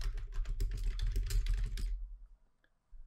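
Rapid keystrokes on a computer keyboard as an email message is typed, a close, steady patter of clicks for about two seconds before stopping into silence.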